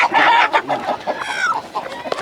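Chickens on a farm clucking in short, close bursts, with a few birds overlapping and one longer rising call.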